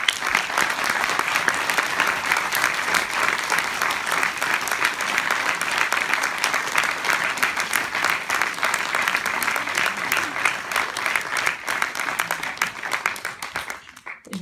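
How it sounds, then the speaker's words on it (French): A cinema inauguration audience applauds two volunteer staff members, with loud, sustained, dense clapping filling the room for about fourteen seconds before tapering off sharply at the end. "Je vous demande d'applaudir Amandine Leduc et Julien Collard."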